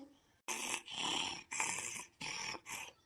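A woman snoring heavily in several long, rasping breaths, loud and close, separated by short pauses.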